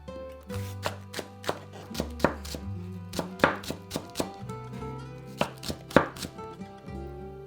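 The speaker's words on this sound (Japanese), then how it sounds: "長ネギはみじん切りにします。" A knife chops a Japanese long leek (naga negi) finely on a cutting board, giving a quick series of sharp, close taps, about twenty in an uneven rhythm with short pauses.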